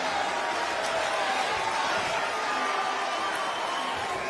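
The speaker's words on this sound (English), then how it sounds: "you can hear that crowd even in round number 1" Steady roar of a boxing arena crowd during the opening round of Teofimo Lopez versus Campa, a dense continuous wash of cheering and noise with no clear breaks.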